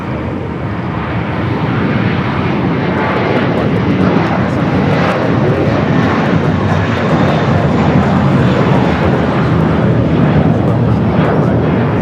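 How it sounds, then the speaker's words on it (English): Japan Airlines airliner moving at Los Angeles airport, a loud, steady jet engine roar that holds unbroken throughout, with faint talk beneath it. "First of 3 Japan Airline flights. Now heading over there to the southeast side of Tom Bradley."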